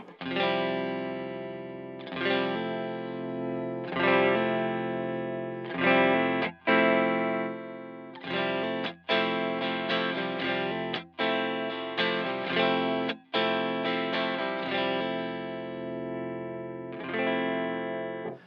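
A Reverend Trickshot electric guitar played through a single pickup with effects rings out in a series of bright, sustained chords and notes, each separated by short cut-off gaps, with a chorus-like shimmer and mild distortion.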